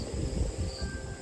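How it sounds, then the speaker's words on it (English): Crickets chirp in a steady, continuous outdoor chorus at low level, a soft insect drone running the whole time with no voices present. "all I can hear is the crickets"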